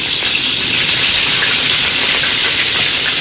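Cauliflower dropped into hot oil for a rice-ceremony feast, giving a loud, dense, continuous sizzle and hiss at close range.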